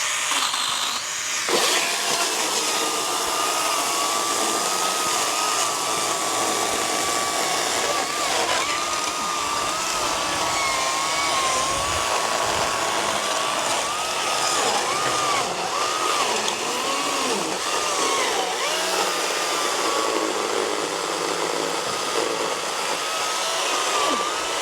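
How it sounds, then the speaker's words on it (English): A powerful chainsaw runs continuously while cutting wood during yard landscaping work, a loud, close, steady motor drone whose pitch wavers and shifts as the blade loads and eases through the cut. "This is a powerful chainsaw"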